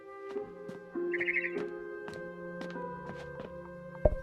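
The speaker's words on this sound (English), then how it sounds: "Then I heard chirping outside my window." Birds chirping outside a window in the video game What Remains of Edith Finch, a few soft high tweets over a quiet sustained musical drone with light tapping sounds.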